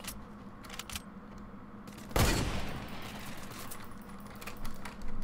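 A sudden burst of rapid, spammy gunfire from a weapon in the Fortnite video game cracks out loudly, then trails off into a fading rumble amid smaller clicks and distant game sounds.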